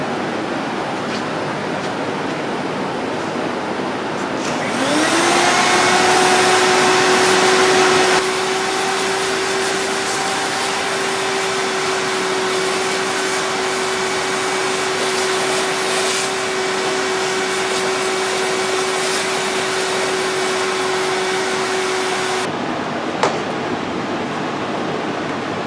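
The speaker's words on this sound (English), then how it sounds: "I need to vacuum all this trash in here." A vacuum cleaner sucks up trash inside the cab of a 2010 Ford F-350 pickup. It starts with a loud steady whine and a rushing airflow, holds for about seventeen seconds, then cuts off. Nobody speaks.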